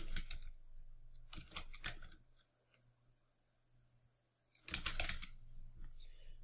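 Keys clatter on a computer keyboard in two quick bursts as a template name is typed into LibreOffice, with a quiet pause between the bursts and no voices.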